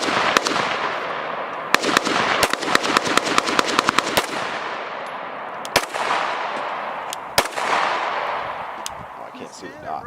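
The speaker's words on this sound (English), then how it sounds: "Today we are doing a no frills, no time clay shoot at 18 yards." Glock 17 pistol with an RMR optic firing at clay targets 18 yards away outdoors: a string of loud, sharp gunshots, some in quick bursts and others spaced out, with echo trailing each report.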